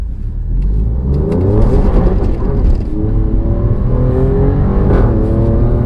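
An Alfa Romeo Giulia Quadrifoglio engine in race mode revs and accelerates up through the gears, rising whine and roar close by, with no talking.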